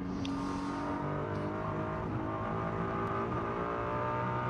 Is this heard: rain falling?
no